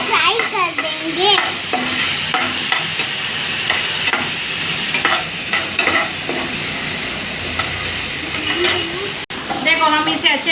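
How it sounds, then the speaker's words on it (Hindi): Tomatoes and vegetables fry in a pan while being stirred, giving a continuous sizzle with repeated scraping strokes. A voice talks over the cooking throughout. "देखो हम इसे अच्छे से फ्राई कर रहे हैं।"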